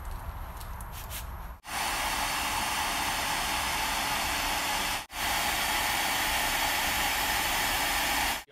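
Heat gun blowing hot air to shrink electrical heat shrink tubing onto a cable, a loud steady hiss that cuts out briefly twice before resuming.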